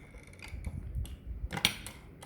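A reloading machine crimps a 20 gauge shotgun shell loaded with a 26 g charge and Bior wad, giving a few close mechanical clicks and creaks with a sharper snap near the end.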